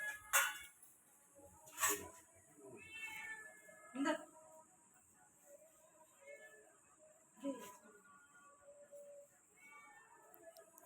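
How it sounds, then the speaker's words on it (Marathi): A cat meows several times close by, short plaintive calls spread out with pauses, over a quiet room with a faint high electrical hum. "हे बघा मांजर आमचं"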